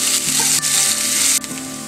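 Onions sizzling hard in hot oil, a loud, bright fry right up close, broken by quick stirring knocks and a brief dip midway.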